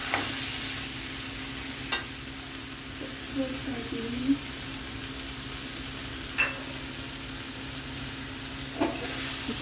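Ground masala sautéing in a kadai for chicken gravy, a faint, low sizzle under occasional sharp clinks of a spoon against the pan, quiet and close.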